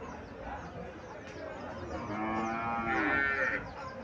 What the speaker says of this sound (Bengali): সাইবাল জাতের গাবি ছটা যাচ্ছে